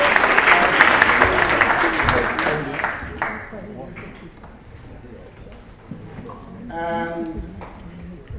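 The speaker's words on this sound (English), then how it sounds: "let's cheer loudly enough so that she can hear us in the back" Cheering and applause from a keynote audience at a waterways conference hall, loud and dense at first, then thinning and fading under voices, with a brief swell of cheering near the end.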